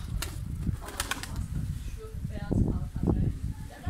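Young pigeons flap their wings inside a pigeon loft, a few sharp flurries of fluttering close by, heard under a voice talking throughout.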